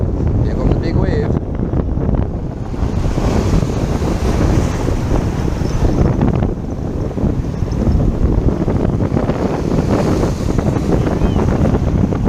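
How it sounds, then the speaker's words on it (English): Ocean surf and strong wind at sea during a fishing outing, a broad continuous roar of rushing water and gusts buffeting the microphone, with a heavier surge as a big wave arrives; loud and close throughout. "Here comes the big wave."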